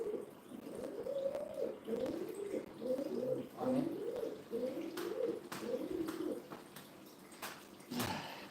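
Pet cockatoos let out of their cage call indoors with a run of soft, repeated cooing and warbling notes, fairly close, followed by a few sharper clicks and rustles near the end.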